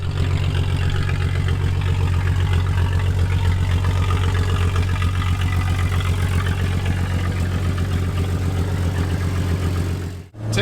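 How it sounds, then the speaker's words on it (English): Jeep engine running on a first short test drive after a ball joint upgrade: a steady, close, loud low-pitched engine drone with a regular pulsing rhythm, heard alone, ending with a brief dropout. "Taking our first little test drive."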